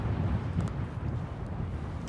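Wind gusting across a lake beside a fishing boat on a very windy day, a steady low buffeting roar that stays loud and continuous, with no voices.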